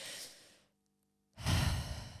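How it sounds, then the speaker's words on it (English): A slow, deep breath taken during a relaxation exercise: a soft airy inhale fades into a brief silence, then a fuller, louder breathy exhale follows, close and alone with no talk. "Take a deep breath with me."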